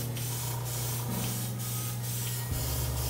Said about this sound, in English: I'm going to spray some clear orange over it